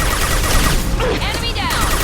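Rapid gunfire bursts from a Mass Effect 2 firefight crackle in a dense, loud fusillade, with game voices talking over the shots.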